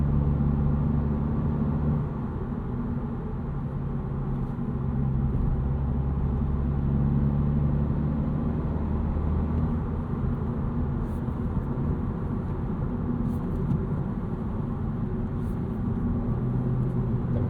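A 2025 Honda Civic Si with a six-speed manual drives through the city, its engine a steady low rumble with road noise, fairly close and continuous, without clear revving peaks.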